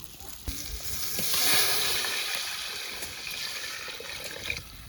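Water is poured into masala, tomato and onion frying in a pot for a village-style egg biryani, setting off a loud, rushing sizzle that swells then eases into a steady bubbling hiss, with a couple of sharp knocks.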